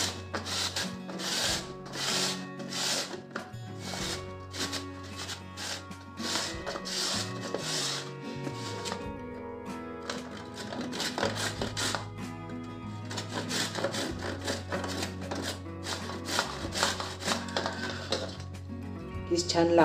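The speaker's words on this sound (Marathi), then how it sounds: "अशा प्रकारे आपण सर्व गाजर आणि बीट किसून घेऊ" Carrots and beetroot rasped against a grater for gajar halwa: a steady, close scraping rhythm of quick repeated strokes that runs for the whole stretch with brief pauses.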